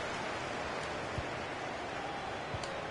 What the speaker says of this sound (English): And it's raining as well, which doesn't help